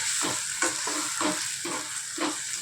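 Banana curry frying in a pan while being stirred: a constant hiss of sizzling oil under a rhythmic run of scraping strokes, roughly two per second, close by and with no one speaking.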